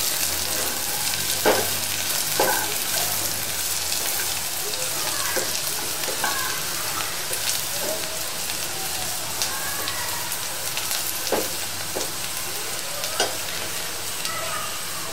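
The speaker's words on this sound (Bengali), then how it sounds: "দারচিনি, এলাচি। হালকা ভাজবো" Cinnamon, cardamom and bay leaf sizzle steadily in hot oil for a Bangladeshi beef curry, with a continuous close crackle broken by occasional louder pops and stirring scrapes, and no talking.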